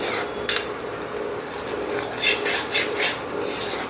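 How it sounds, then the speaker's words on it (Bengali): A spoon repeatedly scraping and stirring a thick raw mango naru mixture in a pan, several rasping strokes in a loose rhythm, close and moderately loud, with no talking. "আমগুলো যাতে নিচে না লেগে যায় এর জন্য অনবরত নাড়তে হবে"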